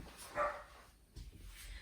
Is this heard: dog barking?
yes